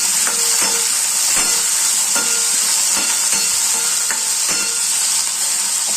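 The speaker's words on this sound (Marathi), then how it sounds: "आता आपण याला छान हलवून घेऊया" Sliced padwal, or snake gourd, stirred and fried in a pan gives a loud, continuous hiss of sizzling oil, with regular spoon scrapes and knocks against the pan cutting through it close up.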